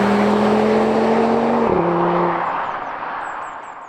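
Audi TT RS with a 2.5-litre five-cylinder engine drives past, a loud steady engine drone that drops in pitch as it passes and fades into the distance.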